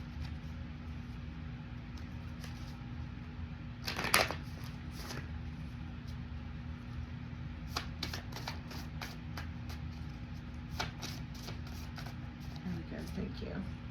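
A deck of cards being shuffled by hand, with a louder riffle early on and several quicker flicks and taps later, heard close up over a low steady hum.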